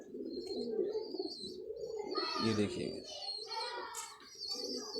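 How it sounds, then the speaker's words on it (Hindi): Ferozpuri pigeons, including a large male, coo in low, rolling murmurs close by, with brief higher chirps; someone talks over them. "ये बड़ा नर कबूतर है जी"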